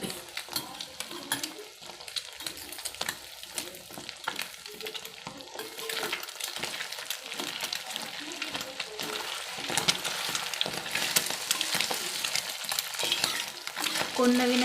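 Egg bhurji fries and is stirred in a pan, a steady sizzle running throughout with repeated scraping strokes of the spatula and occasional clinks against the metal, close and fairly loud, growing slightly louder toward the end.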